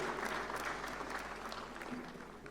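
Sustained audience applause fills a hall during the 68th National Film Awards ceremony, steady, dense clapping from a large crowd that holds at a constant level throughout with no voices over it.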